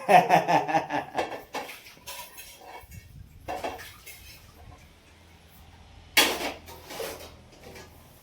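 Pots and utensils are scrubbed and washed by hand at home. Bursts of clattering metal and scraping are separated by quieter pauses, with one sharp clang near the end.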